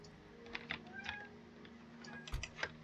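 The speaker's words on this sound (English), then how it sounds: "Oh, hey, it's my cat in the background." A house cat meows faintly in the background during a Skyrim strategy game session, a few short soft calls mixed with light keyboard clicks and a low steady room hum.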